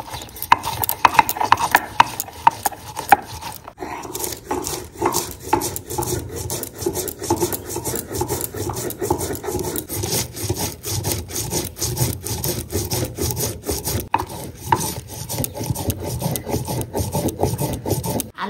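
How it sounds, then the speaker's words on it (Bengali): Spices are ground by hand on a grinding stone, a repeated rough rasping and scraping of stone on stone in a steady back-and-forth rhythm, close and fairly loud, with no talking. "মশলাটা বেটে নিচ্ছি।"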